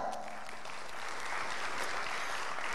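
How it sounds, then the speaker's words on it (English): Applause from a tech conference audience at an open-source summit, a brief, even burst of many hands clapping, moderately distant and fairly soft. "a round of applause for Daimler"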